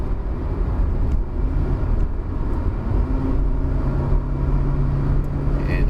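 A 2019 Proton Saga with a 1.3-litre engine labouring on a steep hill climb, a loud, continuous low engine drone heard from inside the car alongside road noise, with no talking.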